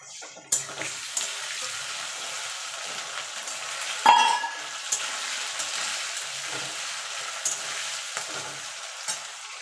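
Ginger paste added to potatoes frying in a pan for a vegetarian cabbage curry, giving a steady close sizzle with a sharper burst as it goes in, alone without talk.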